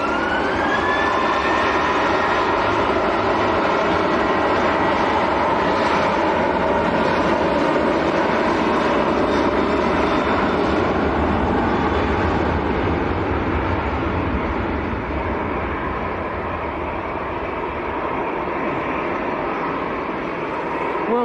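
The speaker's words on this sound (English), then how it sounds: "This is Ryanair to Madrid." A Ryanair jet taking off for Madrid roars loudly and steadily at close range, with a broad rumbling thrust and a rising whine that hold for the whole stretch.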